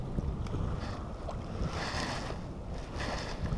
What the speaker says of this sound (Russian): Волна усилилась